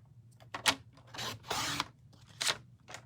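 Cardstock being cut for a slimline handmade card, several short close rasping snips and one longer scraping cut, fairly quiet with no talking.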